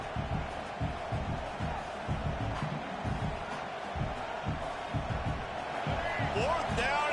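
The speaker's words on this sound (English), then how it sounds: "this crowd is making it miserable on this offense" Loud football stadium crowd roaring during a timeout on a big fourth down, a dense sustained din with rhythmic thumps and stomps, a commentator talking over it.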